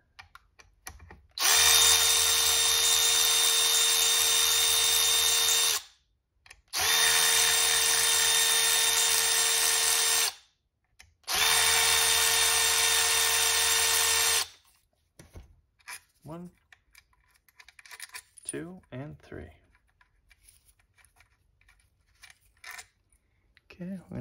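A power tool loosening three E8 external Torx fasteners on an Alpina B7 supercharger, three loud sustained whirring bursts of about four seconds each with short gaps, then quieter clinks and handling noises.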